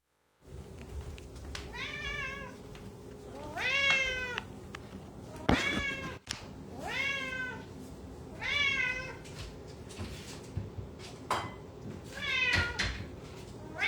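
A house cat meows again and again at feeding time, nearby and fairly loud, with rising calls repeating every second or two, and cupboards and dishes clatter between them.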